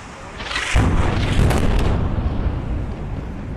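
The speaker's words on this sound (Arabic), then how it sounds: "فعلا يبدو أن كان هناك طلقات تحذيرية وقصف" An airstrike hits a tower building in Gaza, a loud, deep rumbling boom that rolls on for several seconds with a broad, heavy roar and no talk over it.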